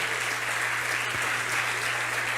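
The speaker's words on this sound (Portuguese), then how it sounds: "Aplauda ao Senhor Jesus, meu irmão" A church congregation applauds steadily, a dense, continuous wash of many hands clapping at an even level with no speech, a low hum running beneath it.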